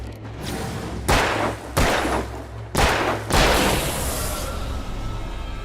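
Several loud in-game gunshots ring out in Alan Wake, four sharp booming blasts spaced irregularly, each trailing off into a rumbling decay over a low steady drone, with no talking.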